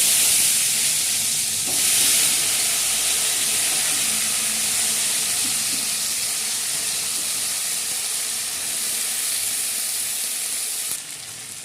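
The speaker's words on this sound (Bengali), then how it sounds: "কড়াইয়ে তেল গরম করতে দিয়েছি, তাতে 2টো জিরে দিয়ে এরপর আমি সবজিগুলো ভেজে নেব।" Vegetables frying in hot oil seasoned with cumin in a wok, cooked for khichuri, giving a steady, loud, close sizzle and hiss that holds throughout and drops off sharply near the end.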